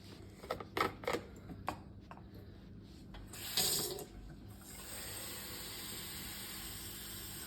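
A few faint knocks and clicks, then a tap turns on and water pours steadily, a soft continuous rush filling the tank of a Shark HydroVac nearby.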